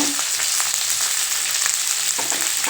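Onions, tomatoes and tamarind frying in a pan for a roasted onion chutney, a dense, continuous sizzle with faint stirring scrapes, close and loud.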